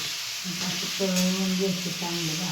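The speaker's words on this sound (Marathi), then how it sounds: "सगळं टाकून घेतलं ते परतून घे चांगलं परतायचं हां" Capsicum and garlic paste sauté in a pan with a steady close sizzle, while a voice speaks briefly over it.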